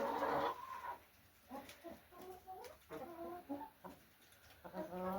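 Hens cluck and murmur in a chicken pen on a small Southeast Ohio farm on a snow day, short clustered clucks in an uneven run, moderately close with no one talking.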